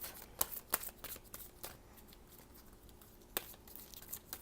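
Quiet, close card shuffling: soft papery riffles punctuated by a few sharp snaps and flicks, with no talking.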